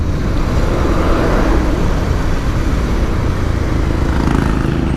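A vehicle engine putters steadily while belching black smoke, a dense low rumble holding at a loud, close level the whole time with no pauses.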